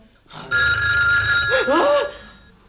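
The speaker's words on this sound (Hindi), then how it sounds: "प्लीज मिशी जल्दी फोन फोन उठाओ उठाओ" A telephone bell rings in a steady electronic trill, close and fairly loud, with brief vocal sounds cutting in partway through.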